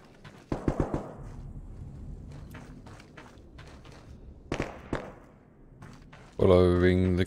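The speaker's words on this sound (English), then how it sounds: "Following the gunshots." Bursts of gunfire in the video game Arma 3 Prairie Fire, set in Vietnam, crackle in short clusters, fairly faint, between quiet stretches, with a voice cutting in near the end.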